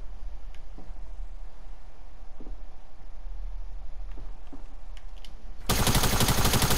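Burst of rapid automatic gunfire in the video game Fortnite erupts loud and dense near the end, following a stretch of quiet game ambience with a few faint clicks.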